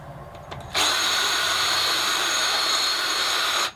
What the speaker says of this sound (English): I've put a small sanding spindle in my drill and I use that to clean up the edges